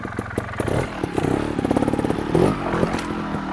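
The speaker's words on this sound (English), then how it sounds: "you jump up while slipping the clutch, giving it some throttle" Motorcycle engine revving in bursts as the rider slips the clutch and blips the throttle while heaving the bike up over an obstacle, with clattering and scraping mixed in, close and moderately loud.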